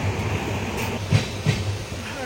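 A passenger train runs on rails toward Mysore, a steady low rumble with a couple of clacking wheel thumps over the track joints.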